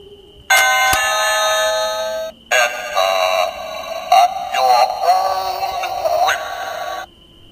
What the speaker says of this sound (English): You better ring that bell, Sonic.